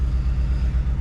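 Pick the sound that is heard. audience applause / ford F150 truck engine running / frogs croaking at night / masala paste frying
ford F150 truck engine running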